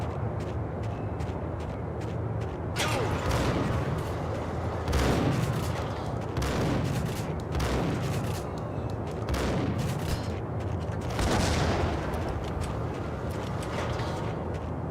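Beretta pistol gunfire in the Max Payne video game, loud repeated shots and booming blasts recurring every second or two over a dense, noisy action soundtrack.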